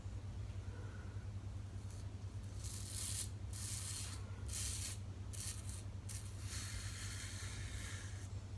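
Safety razor scraping across a scalp during a head shave, a close, rasping scratch in repeated bursts of strokes with short pauses, over a steady low background hum.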